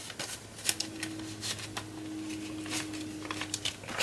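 Paper banknotes being counted and handled while sorting cash into envelopes, giving soft rustles and quick flicking sounds at low volume over a steady faint hum.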